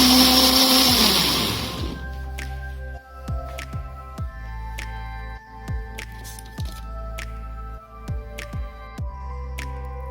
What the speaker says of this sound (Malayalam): സ്ട്രോബെറി ഒന്ന് നമുക്കൊന്ന് ക്രഷ് ചെയ്തെടുക്കാം.